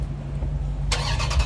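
A 2018 Dodge Durango SRT 392 cranks and fires up near the end, a sudden broadband roar of the engine catching over a steady low idle hum from another running vehicle nearby.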